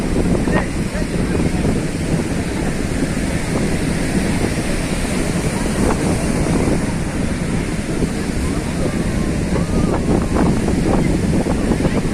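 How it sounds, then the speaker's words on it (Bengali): Strong wind blows over a rough sea, buffeting the microphone with a constant low roar while surf crashes and washes in the background, loud and sustained throughout. "হেভি হাওয়া"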